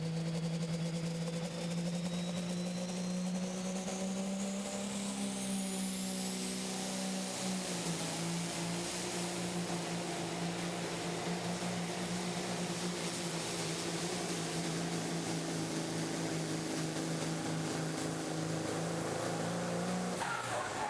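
Peterbilt semi truck at a Pro Pulling tractor pull, hauling the sled with all eight DOT tires planted, a loud, sustained engine roar that drops in pitch and climbs again, with faint commentary underneath.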